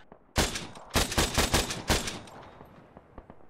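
.50 caliber machine guns fire during amphibious assault training, with several loud, booming bursts in quick succession up close, followed by a fading echo and a few distant shots.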